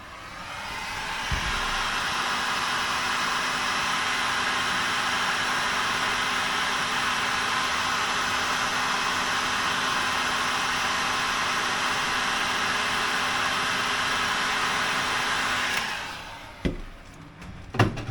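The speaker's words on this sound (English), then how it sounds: "Just got to be a bit careful you don't get too excited with the heat gun and start melting wires" A heat gun blows hot air over soldered wire joints while work lights are wired for a toolbox. A loud, steady blowing roar runs for about fifteen seconds, then cuts off, followed by a few faint clicks and knocks.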